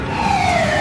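A brief, loud ambulance siren tone sweeping downward, heard close and alone.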